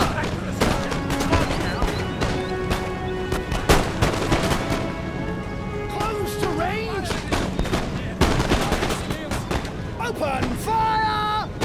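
Musket volleys from the British 95th Foot in a Napoleonic battle game, a continuous crackle of massed rifle fire with repeated sharp reports and booming shots, loud and dense throughout, with shouted orders mixed in.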